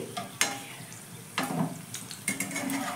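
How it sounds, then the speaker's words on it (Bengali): Parathas fry in hot oil as they are flipped in a pan, giving a soft, steady sizzle broken by three sharp, close clatters of the utensil against the metal. "আমি এবার পরোটাগুলো বন্ধুরা দেখো উল্টে দিচ্ছি।"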